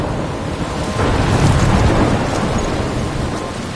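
A storm from the video game Life is Strange roars with heavy rain and a deep rolling rumble of thunder swelling after the first second, loud and continuous with no talking.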